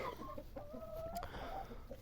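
Chickens cluck and murmur nearby in a henhouse in a steady, busy stream, with a few higher squawks rising above the flock's chatter.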